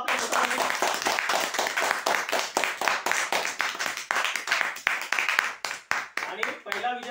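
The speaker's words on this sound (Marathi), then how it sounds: "एकदा जोरदार टाळ्या वाजव आपल्या।" An audience claps at a prize draw event in Maharashtra, steady applause running throughout and thinning toward the end while a voice speaks over it.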